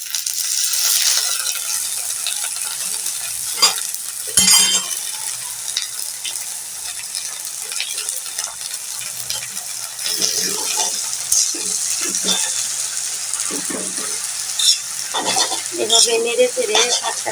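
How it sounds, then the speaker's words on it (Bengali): Jute leaves frying with onion and garlic in a pan, stirred with repeated scraping and rustling strokes over a loud, continuous sizzle. "এভাবে নেড়ে চেড়ে শাকটাকে মিশিয়ে নেব"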